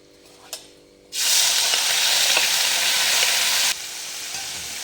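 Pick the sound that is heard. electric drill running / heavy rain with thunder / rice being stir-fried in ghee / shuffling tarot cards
rice being stir-fried in ghee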